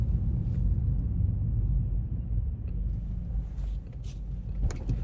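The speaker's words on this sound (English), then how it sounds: "Also, my car's on." A car engine idles in a steady low rumble, close by and continuous, with faint scattered noises on top.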